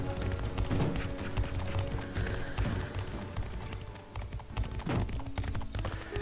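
Horse hooves clop rhythmically in a medieval battle video game, a steady galloping beat mixed with clattering game sounds and ambient noise, fairly quiet overall.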